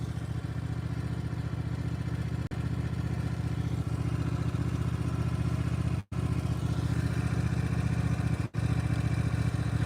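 Small baby tractor engine running steadily while clearing snow, a loud, constant mid-pitched drone with a few brief dropouts and no talk.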